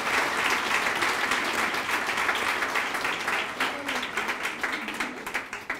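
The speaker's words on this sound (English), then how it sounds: "Can we give them a big round of applause?" Audience at an international school event in Malad West bursts into loud, sustained applause, dense clapping filling the room and thinning slightly toward the end.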